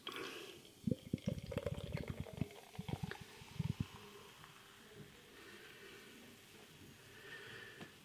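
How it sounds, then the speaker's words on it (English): Siren Surface Waves California pale ale poured from a can into a glass, a gurgling, glugging pour for about four seconds that settles into a faint fizzing hiss of carbonation. "Beer pouring out"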